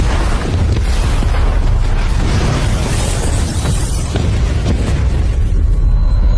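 Loud explosion in a Chinese action drama, a heavy continuous roar of blast and debris with crackling bursts and rumbling low end lasting several seconds.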